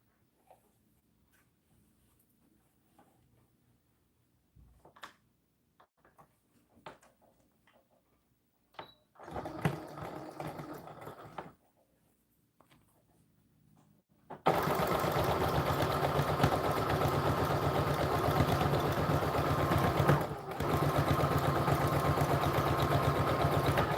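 A sewing machine stitches a seam on a doll dress, starting with a short test burst after quiet fabric handling, then running loud, close and continuous at a moderate steady speed through the final stretch.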